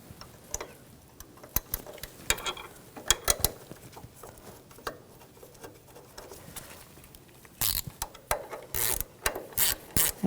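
A ratchet wrench tightens a bolt on an upper control arm bracket of a 2014–2018 GMC Sierra truck. Sparse metallic clicks and taps give way to rapid, loud bursts of ratcheting near the end.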